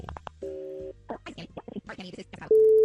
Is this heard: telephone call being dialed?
yes